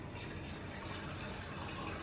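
Water being poured into the bottom section of a steamer for cooking eggplant, a continuous even rushing and splashing fill sound at close range with no voices.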